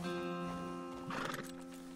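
A video game horse neighs once in a bright whinny while hooves clop, near and fairly clear, with a steady tonal hum underneath.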